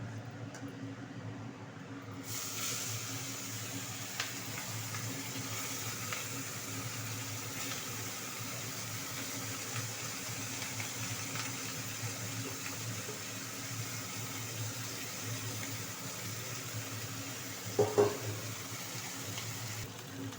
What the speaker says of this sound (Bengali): মাখিয়ে নিয়ে এটা আমি ভেজে নেব।